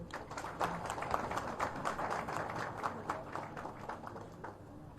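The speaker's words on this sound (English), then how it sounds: "A huge round of applause, please." Scattered applause from the audience at a national law conference in Hyderabad, sounding as quiet, uneven clapping with distinct individual claps rather than a dense roar, continuing steadily for several seconds.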